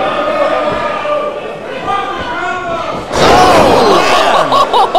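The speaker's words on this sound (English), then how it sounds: "Just slams him right down." A wrestler is slammed down onto the ring mat at a wrestling championship match, a sudden loud thud after commentary, followed by crowd noise.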